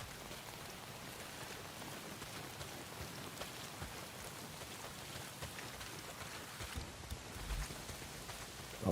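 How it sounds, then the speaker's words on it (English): Heavy rain pours down in the Days Gone video game, a steady, dense patter of drops on surfaces heard quietly and alone, with a slight swell near the end. "Well, not if it's pissing down rain."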